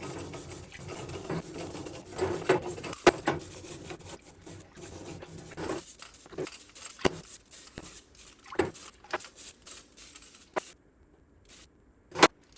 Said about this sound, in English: it's improper to actually use a metal brush like this to scrub your pistons